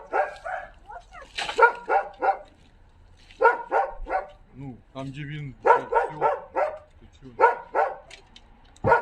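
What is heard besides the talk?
dog barking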